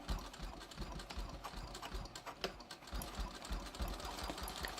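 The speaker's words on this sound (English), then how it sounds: "I'm just going to sew my pocket on" Sewing machine stitching a pocket onto a clear vinyl project bag, a quiet, steady, fast-pulsing mechanical whir running continuously up close.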